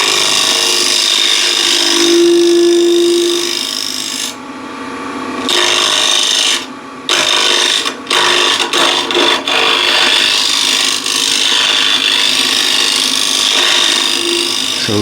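A scraper cuts into a wooden bowl spinning on a lathe, giving a steady rasping scrape with several short pauses and restarts midway, with no talk.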